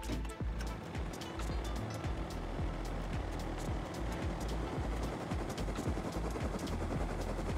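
Minicopter in the Rust video game, a steady chopping rotor and engine drone heard close and fairly loud for several seconds, continuous and without voices over it.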